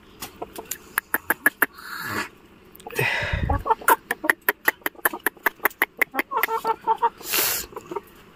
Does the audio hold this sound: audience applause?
no